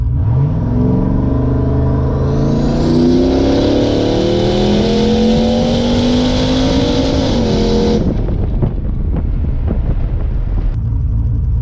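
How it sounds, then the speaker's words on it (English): Turbo LS-swapped Nissan 240SX with a 4L80E automatic launching hard from a standstill, engine note climbing steadily through a loud wide-open-throttle pull before the throttle lifts and the car coasts with lingering rumble. "Let's see if we can do a pull from a standstill."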